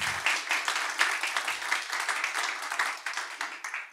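Applause for a percussionist at a cueca concert, a steady patter of many hands clapping throughout with no voices over it.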